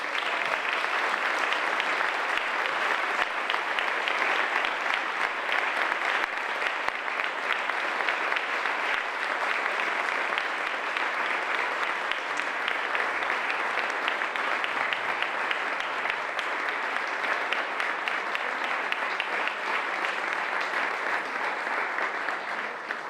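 Sustained, steady applause from an audience at a book presentation evening, dense and even for over twenty seconds with no break and no voices above it.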